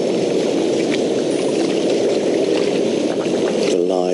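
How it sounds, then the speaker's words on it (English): Continuous rushing water, steady and fairly loud, heard from a park bench outdoors with no pauses across the whole stretch. "the sound of the water"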